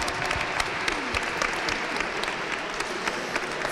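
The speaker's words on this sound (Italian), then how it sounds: "Un applauso." An audience applauds at a press conference for an IBO international boxing title bout, a dense burst of clapping filling the room at a fairly loud, even level for a few seconds.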